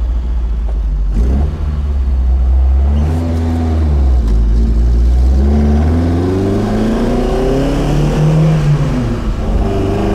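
A 1967 Alfa Romeo Giulia Sprint GT engine revs loudly from within the car, climbing in pitch through gears with a clear shift break and rumbling, repeated rising harmonics.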